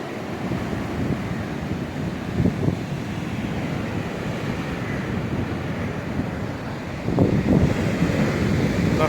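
Stormy sea surf and strong wind along the Yalta embankment in March, a steady loud roar of breaking waves and gusts buffeting the microphone, swelling louder near the end with no voices.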